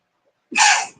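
A single sharp sneeze bursts out after a moment of silence, loud and close, with a breathy rush fading quickly.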